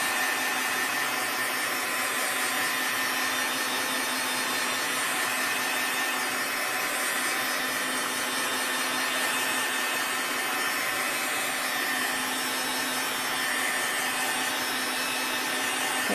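A dryer blows steadily and loudly over a Chalk Couture transfer, a continuous close-up hiss with no break from start to end.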